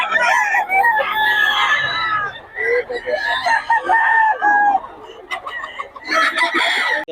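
Roosters crow loudly and repeatedly, with hens clucking among them, close by and overlapping.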